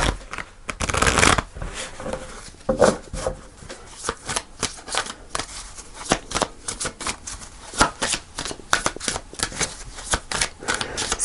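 A deck of tarot cards shuffled repeatedly at close range, with a long run of sharp riffles, flicks and taps in irregular bursts, some louder than others, with no talking.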